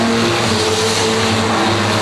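Street stock race cars roar around an oval track in a main event, a loud, steady engine drone close by with no break.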